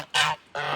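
Pilgrim gander giving two deep, loud honks in quick succession, each about a fifth of a second, with a short pause between.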